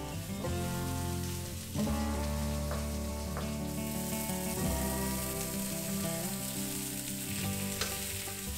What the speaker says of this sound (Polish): Teraz pozwalam kiełbasom się smażyć